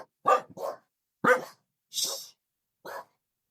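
Dogs bark in short, sharp bursts, about five barks spaced irregularly over a few seconds, close and fairly loud with silence between them.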